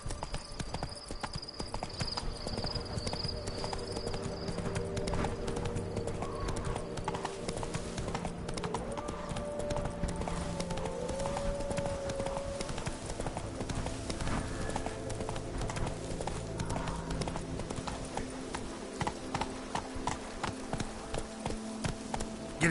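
Horse galloping in The Witcher 3, a steady fast clip-clop of hooves running throughout over game ambience and music, close and even in level, with no talking.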